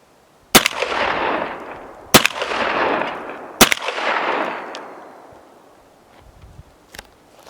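Three loud shotgun blasts from a Mossberg 930 JM Pro firing buckshot at a target, each sharp report followed by a long rolling echo, spaced about a second and a half apart, then a fainter crack near the end.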